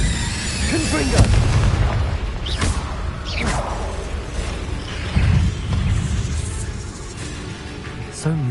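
Confringo fiery blast spells in the Hogwarts Legacy video game, booming impacts and whooshes over a continuous rumbling combat din, with spoken voices in the mix.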